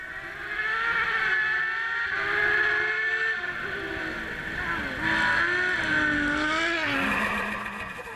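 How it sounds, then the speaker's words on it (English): An MC1 rally car races through a gravel stage at a New Zealand rally, its engine note climbing and dropping through gear changes with tyre noise, loud and continuous throughout. "And isn't that an amazing sounding car"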